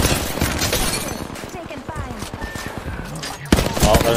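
Rapid video game gunfire bursts from a UFC 3 session, a dense run of sharp cracks over a loud mix, with a voice talking over it.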